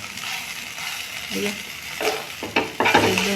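A spoon stirs cooked winter vegetables and boiled peas in a pan, scraping and sizzling steadily as the water dries off, with louder clatters of the utensil against the pan near the end.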